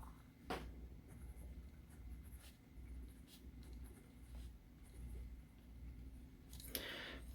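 A Rite in the Rain YE13 mechanical pencil scratches softly across a pad of paper in short strokes with a few taps, quiet and close, in an otherwise still room.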